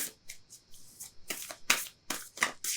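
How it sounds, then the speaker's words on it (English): A deck of cards is shuffled in a series of short, papery bursts, growing louder and more rapid toward the end, close and without talking. "I'm just going to shuffle again"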